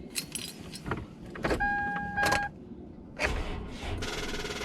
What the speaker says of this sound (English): Cold start in the hoopty. You gotta see, so she actually starts up.